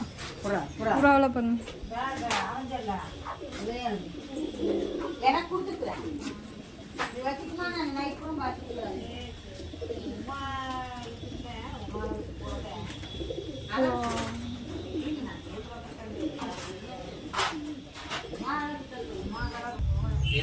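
Caged pigeons coo repeatedly in soft, rolling calls, with some chirps mixed in, while a person talks throughout.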